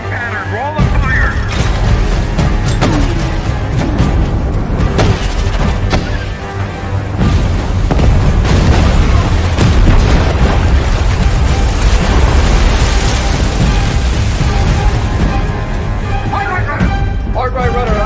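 Heavy booming explosions of depth charges underwater, fired by a Fletcher-class destroyer against a U-boat, with deep, rolling rumble, loud and sustained, swelling and fading across a long stretch of continuous noise.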